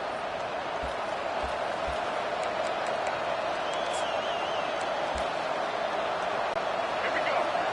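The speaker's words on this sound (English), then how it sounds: "This crowd, full throat, splitting the eardrums and letting them know it's going to be a long day." A stadium crowd in a football video game roars in a steady, dense wall of noise that holds at a constant level throughout.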